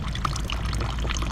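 Water pouring and splashing from a tilted fountain, a close, steady gushing flow with bubbly trickles throughout.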